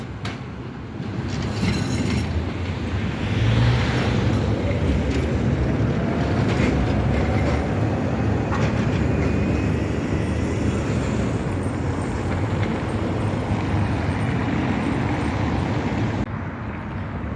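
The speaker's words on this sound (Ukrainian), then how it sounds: "Проїжджає трамвай другого маршруту 1109." A route 2 tram rolls steadily past on Copernicus Street in Lviv, Ukraine, a loud continuous rumble of wheels on rails with faint squeals, fading out at the end.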